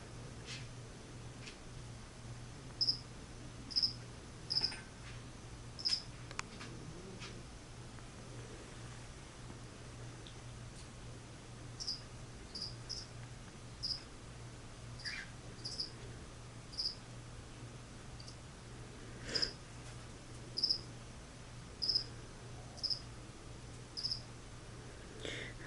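A feeder cricket in a tarantula enclosure chirping in short, sharp, evenly repeated bursts, fairly faint over a quiet low hum, with pauses between groups of chirps.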